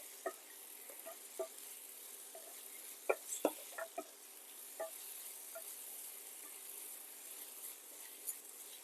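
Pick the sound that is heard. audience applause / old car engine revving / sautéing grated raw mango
sautéing grated raw mango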